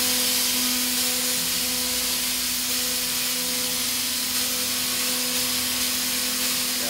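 A Haas DM-2/DT-2 CNC machine running its spindle, a steady whirring hum with a sustained tonal whine over broad hissing noise, constant and close throughout with no talking.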